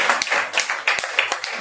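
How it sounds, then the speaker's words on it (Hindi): A church congregation at a Wednesday service claps loudly in unison, a quick, even run of about a dozen sharp, close claps. "ताली बजाएंगे जोरदार से"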